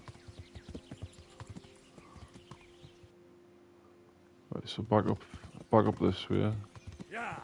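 Horse hooves in the medieval video game Kingdom Come: Deliverance clip-clop in a steady quiet rhythm for the first few seconds, then someone talks loudly over the faint game sounds.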